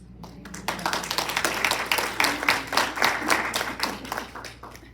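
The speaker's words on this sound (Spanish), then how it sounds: "Así que el aplauso es para ustedes." Applause from an audience at a women's day celebration and panel conversation, starting sparse then building into fairly loud, uneven clapping with distinct individual claps audible throughout.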